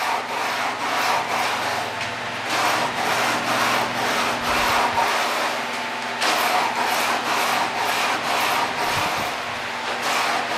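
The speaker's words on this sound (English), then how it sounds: "You hear that loud, loud grinding." Continuous loud, gritty grinding with steady back-and-forth strokes as a weighted 12.5-inch glass telescope mirror is rough ground, a harsh abrasive scraping that runs without pause.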